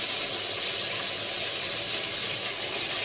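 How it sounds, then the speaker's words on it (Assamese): Fish sizzles in hot oil in a home kitchen, a dense, steady hiss that stays even and close throughout with no voices. "আৰু এটা মাছখিনি ভাজি লওঁ।"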